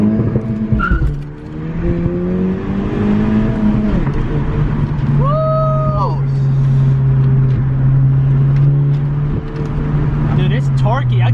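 From inside the cabin, a 10th-generation Honda Civic Si accelerates hard through a full-throttle pull, its loud engine note climbing in pitch and then settling into a steady drone, with a brief tire or gear sound along the way.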